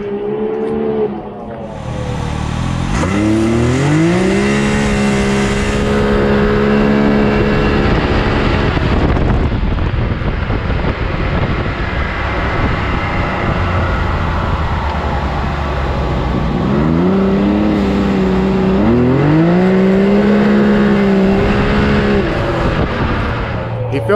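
A car fitted with a big turbo and Treal exhaust revs and accelerates hard from 0 to 60, two loud rising engine pulls with gear-change dips, heard close with people talking over it.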